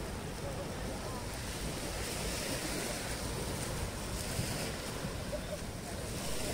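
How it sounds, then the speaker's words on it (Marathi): Sea waves roll in at Keri Beach, where the Terekhol river meets the sea, as a constant broad wash of surf mixed with gusty wind buffeting the microphone. "खूप भारी वाटतंय समुद्रातल्या लाटा"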